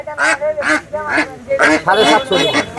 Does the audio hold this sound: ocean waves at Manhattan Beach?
no